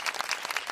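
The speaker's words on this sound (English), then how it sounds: "Let's give a round of applause for becoming" A short burst of clapping from a small audience, dense and even, close and fairly loud, with no voices over it.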